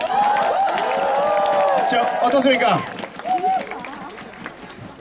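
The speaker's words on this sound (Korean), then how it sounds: "응원의 박수를 다시 한번 부탁드리겠습니다." Baseball fans applaud a player at a ballpark ceremony, with cheering under a loud amplified announcer's voice; the crowd noise is steady at first, then thins out as the talking continues.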